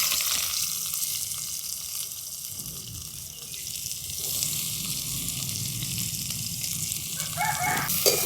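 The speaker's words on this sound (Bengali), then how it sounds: "দেখুন পেঁয়াজটা একটু হালকা হালকা করে ভেজে নিয়েছি" Chopped onions fry in a pan with a steady, close sizzling hiss and faint crackle that runs unbroken throughout, with no voices.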